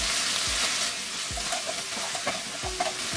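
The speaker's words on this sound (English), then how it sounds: "Give it a quick stir." Ginger garlic paste frying in oil in a pan, giving a constant sizzle with a few quick, soft thuds and scrapes of a spoon stirring it; close and moderately loud, with no talking.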